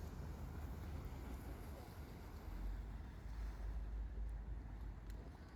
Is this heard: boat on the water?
yes